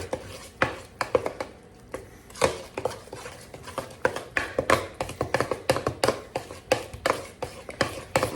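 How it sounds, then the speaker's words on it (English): Thick cookie dough stirred with a big spoon in a bowl, a series of irregular close thumps and scrapes in a quick uneven rhythm, no talk. "Get this big spoon. I'm gonna stir."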